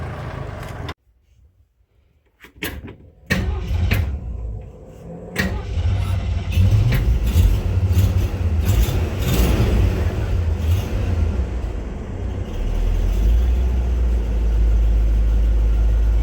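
An old bus engine cranks after a short quiet pause, sputters, then catches and settles into a loud, steady rumbling idle that keeps running close by, with no voices.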